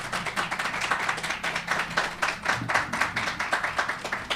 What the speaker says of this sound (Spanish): Le damos la bienvenida con un aplauso.